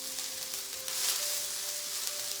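Onions, peppers and kale frying in a pan, a steady bright hiss of sizzling oil that swells briefly, close up with a faint tonal hum beneath, no talking.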